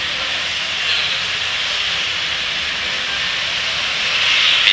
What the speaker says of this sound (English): we have had a nominal liftoff of our Falcon 9